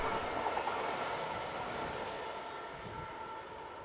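A Märklin model train runs past a block signal on a model railway line, making a steady, even rolling rumble that holds throughout without breaks or voices.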